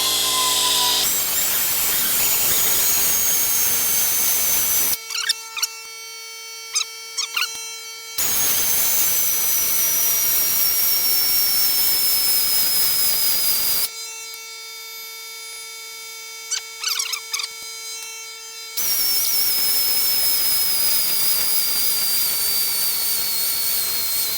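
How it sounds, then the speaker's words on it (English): A die grinder with a burr works on a part of a 632 engine build with an F2 ProCharger, a loud, high, steady whine that repeatedly cuts out and restarts in bursts, close up with no talk. "let's get the grinder, the die grinder, the burr, whatever they call it, and keep hitting it"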